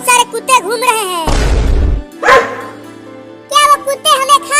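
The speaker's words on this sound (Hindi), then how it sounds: "बाहर बहुत सारे कुत्ते घूम रहे हैं।" A cartoon dog gives one loud, rough bark burst and then a shorter yelp, set between animated voices talking in Hindi before and after.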